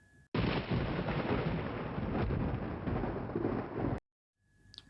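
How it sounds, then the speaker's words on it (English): A sound-effect thunderclap in an audio story, a loud sustained rumbling roll lasting several seconds that cuts off abruptly, followed by a faint low rumble afterward. "A few minutes later, it started lightning."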